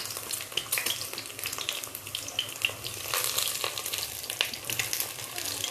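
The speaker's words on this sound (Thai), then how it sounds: "ไข่ดาว ไข่ดาวน้องแอฟจะไม่สุกนะคะ" Fried eggs sizzle in a pan for a child's breakfast, a steady crackling frying hiss with scattered sharper pops and spatters throughout, close and fairly quiet, with no talking.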